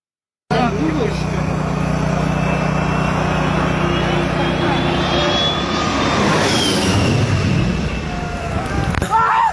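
A firefighting aircraft flies overhead with a loud, continuous engine roar that is close and powerful, its pitch sliding as it passes, filling the whole stretch after a brief silent start.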